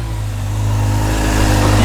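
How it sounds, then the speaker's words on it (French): A Honda 600 Hornet motorcycle approaches, its engine a steady low drone that grows gradually louder and closer throughout, with no talking over it. "Je crois que c'est un moteur de moto, j'ai l'impression."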